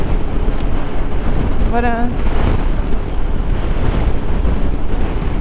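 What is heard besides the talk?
strong crosswind while riding motorcycle on Patagonian coast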